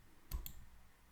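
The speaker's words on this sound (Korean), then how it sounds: "자, 오른쪽 마우스 다시 클릭." A computer mouse gives a quick right-click: a pair of sharp, faint clicks close together in a quiet room, then silence.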